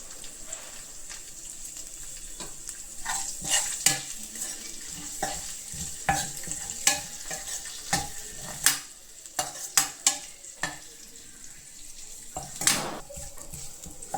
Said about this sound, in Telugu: తాలింపు బాగా ఫ్రై అయిందండి.